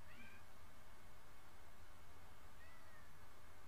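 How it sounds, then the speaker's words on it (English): A cat meows at a bedroom door, two faint drawn-out cries, one at the start and one near the end, over a steady hum of room noise. "while the cat meows at the door"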